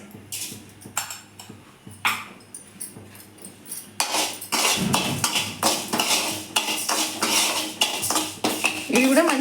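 Rice being dry roasted in a kadai after lentils for sunnundalu, heard as close, dry scraping and clinking of a metal spoon against the pan, sparse at first, then denser and busier.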